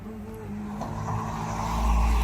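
A car passes close by on a street in Germany, its engine and tire rumble swelling steadily louder over a couple of seconds as it approaches, with no talk over it.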